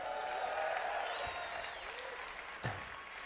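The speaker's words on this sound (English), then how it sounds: "Let's give yourself a round of applause for that." Audience applause at a large live marketing conference, a steady wash of clapping hands that fills the room, fairly even throughout with a faint voice briefly audible near the end.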